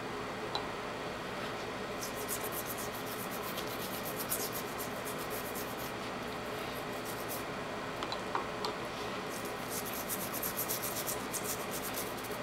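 A cloth is wiped over the one-piece metal bolt carrier of a Mossberg 590A1 shotgun, making a steady, quiet rubbing hiss that continues throughout with small scratchy bursts and no talking.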